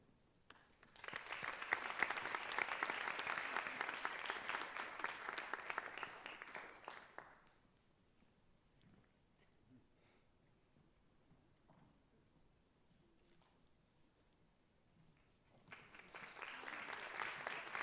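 Audience applause at a school valedictory ceremony for the Class of 2020, a sustained round of clapping lasting several seconds, then quiet, then another burst of clapping starting up near the end.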